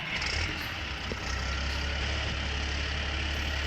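A tractor engine idles in Farming Simulator 19, a steady low rumble holding constant and fairly close throughout with no break.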